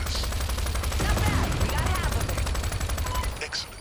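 Rapid machine gun nest fire in Crime Boss Rockay City rattles in a dense, continuous burst, loud and close throughout, with a voice talking briefly over the shooting.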